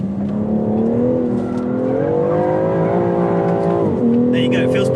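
A BMW X4 M performance SUV lapping a race track, its engine droning steadily loud and close with rising and falling revs, a brief throttle dip near the end, and someone talking over the engine throughout.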